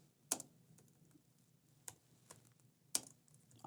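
Keystrokes on a computer keyboard entering a user's name, a few separate clicks spaced well apart, quiet and close, with no talking.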